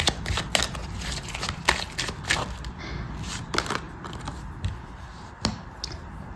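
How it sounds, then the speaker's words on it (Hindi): Tarot cards are shuffled and drawn close up, giving crisp flicking riffles and sharp snaps in irregular bursts over a soft background. "यहाँ पे 2 कार्ड्स और निकालूंगी मैं"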